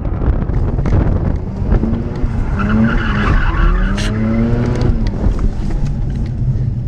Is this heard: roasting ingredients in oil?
no